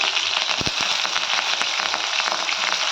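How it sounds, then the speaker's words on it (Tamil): Shallots go into hot oil where mustard seeds and urad dal have popped, while making an oil-fried brinjal dish. A loud, steady sizzle runs throughout, dotted with sharp crackling pops. "இப்போ பாருங்கள், கடுகு உளுத்தம் பொரிஞ்சிருச்சு. இப்போ வெங்காயம் சேர்த்துக்கலாம்."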